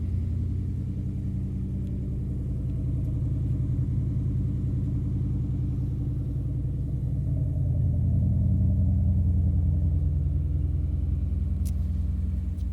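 A modified 2015 Ford Mustang GT V8 burbles with a deep, steady exhaust rumble, moderately loud and fairly even, swelling slightly partway through, with no talking over it.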